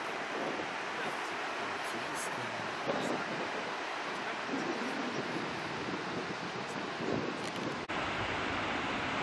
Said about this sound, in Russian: А там шумит Балтийское море.